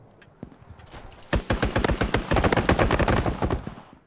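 Video game gunfire opens with a few scattered shots, then breaks into a loud, rapid burst of near automatic fire, with no voices.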